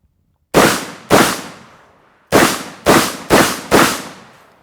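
Six loud, close shots from a Vepr 12 semi-automatic shotgun, a sharp pair followed by a pause and then four quicker blasts, each with a short decaying echo.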